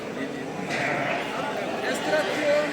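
Sheep bleating amid the crowd at a Turkish livestock market in Aksaray, brief calls rising over constant background chatter and people talking nearby.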